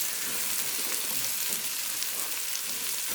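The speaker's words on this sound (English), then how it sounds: "Because of my small pan, I'm going to have to saute the onions in batches." Onions sauté in a small pan, cooked in batches, making a continuous soft frying hiss at moderate level with no talking.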